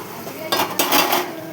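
A utensil stirs spices and a pinch of turmeric frying in a pan, making a few close, scraping clinks against the metal in short bursts with no talk.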